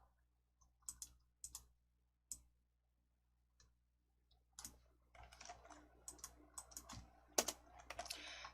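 Scattered keystrokes on a computer keyboard in Excel, quiet isolated clicks at first, then a denser run of typing with a louder key press near the end.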